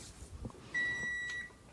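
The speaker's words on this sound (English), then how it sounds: "there's my 10-minute timer" A kitchen timer goes off after ten minutes while pumpkin butter chocolate chip cookies are being made, giving one steady electronic beep of about two-thirds of a second over faint room noise.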